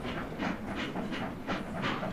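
Trains circling the tracks in the Sid Meier's Railroads game give off a rhythmic chugging hiss, evenly pulsing steam-like bursts repeating about twice a second at a moderate, steady level.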